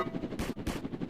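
Gunfire in the Roblox game Prison Escape: two short, loud bursts of rapid shots, one close after the other, over a steady layer of game background noise.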